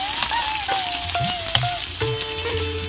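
Chopped onion and green chillies fry in oil with dried chilli and whole cumin, a loud, close, crackling sizzle with light stirring scrapes, alongside a faint thin tone.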